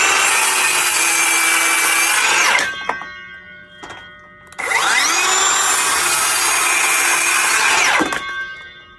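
A Ryobi power saw cuts through wood in two long, loud, steady whining passes separated by a quieter pause of about two seconds, each cut ending with a sharp spin-down.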